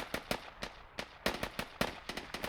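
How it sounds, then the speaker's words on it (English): Explosions and gunfire in an online shooter game come as a rapid series of sharp, evenly spaced bangs, about a dozen in quick succession at moderate loudness. "More explosions."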